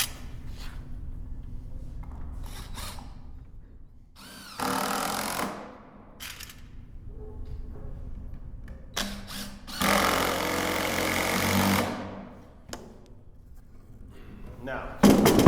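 Power driver sinking a couple of screws into a wooden chair assembly in two loud whirring bursts of a second or two each, with shorter blips and a low background hum between them.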